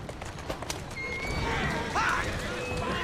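A horse gallops and whinnies in the video game Assassin's Creed Syndicate: steady hoofbeats run under game noise, with a rising neigh about two-thirds of the way through, and voices can be heard over it.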